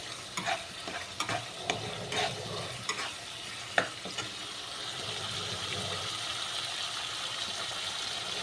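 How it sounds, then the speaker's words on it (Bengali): A spice paste for a katla fish curry with potato and cauliflower sizzles in oil while being stirred, with a few scraping knocks of the utensil early on, then a steady close frying hiss. "মশলাটা কষানো হচ্ছে"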